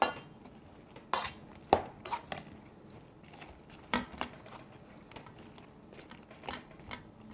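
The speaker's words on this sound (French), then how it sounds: "Voilà, on mélange bien." French toast batter whisked in a bowl for maple-syrup pain perdu, heard as a string of light clinks and taps of utensil against the bowl, spaced irregularly and fairly close, with no talking.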